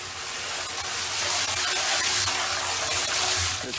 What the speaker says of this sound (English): use a power washer